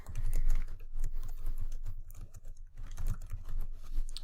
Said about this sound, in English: So maybe I want to type in something relating to that.